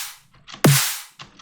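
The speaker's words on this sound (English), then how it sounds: "I love adding laser layer to the snare." A layered electronic snare hit from a dubstep track, with a bright laser-like zap layer on top; one sharp punchy strike with the tail cut short, set between soft synth pads.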